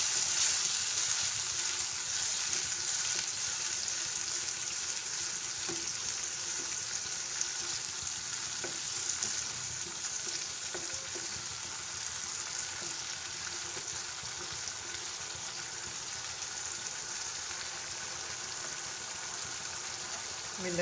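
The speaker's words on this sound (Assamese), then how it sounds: "বিলাহী এখন ভাজ খাবলৈ দিম।" Tomato paste fries in a pan over a medium gas flame for chili curry, giving a steady close hiss and sizzle with faint stirring and occasional speech.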